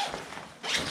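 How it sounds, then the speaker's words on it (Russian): A zipper on the carry bag of an inflatable X-River Grace Wind 420F boat is pulled open in one short, close rasping stroke that grows louder toward the end. "Расстегиваем."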